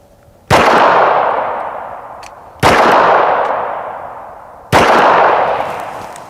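.45 ACP pistol shots fired at AR500 steel body armor: three loud, sharp blasts about two seconds apart, each trailing a long ringing metallic decay.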